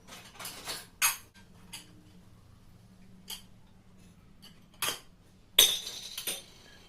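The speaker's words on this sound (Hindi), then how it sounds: "जब तक चाय बन रही थी तब तक डिश वॉशर को खाली करने वाला" Dishes and cutlery clink and clatter in scattered bursts as a dishwasher is emptied in a home kitchen, sharp metallic and ceramic knocks separated by quiet pauses.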